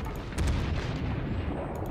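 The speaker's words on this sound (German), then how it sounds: "die erste Salve ging drüber" The Yamato battleship in World of Warships fires a heavy gun salvo, heard as a deep, loud rolling boom that holds for the whole stretch, with no talk.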